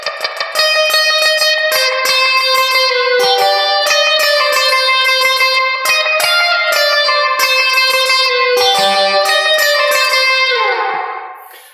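Clean electric guitar picks a chorus vocal melody as single notes, a steady run of plucked tones with crisp attacks and a light effects shimmer, played alone and closing on a sustained note that fades out.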